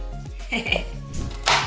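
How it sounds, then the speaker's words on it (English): A knife chops pecans on a board during home pie baking, giving a quick run of light, uneven taps and knocks with a faint clink, under low background sound. "I'm just doing a little bit more chopping on my pecans"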